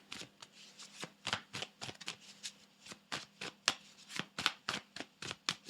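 Tarot reading cards being shuffled by hand, a steady run of crisp riffling bursts repeating roughly every half second, close and fairly quiet with no talking.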